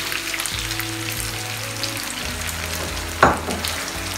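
Sauce poured onto browned minced meat for a Bolognese sizzles steadily in a hot pan. A low hum runs underneath, and one sharp clatter of a utensil stands out near the end.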